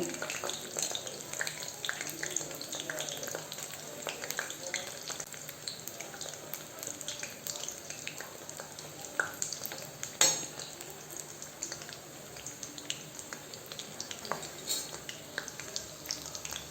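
Onion pakora fry in hot oil, a steady soft sizzle and crackle running throughout with occasional light clinks of a utensil, quiet and close with no talking.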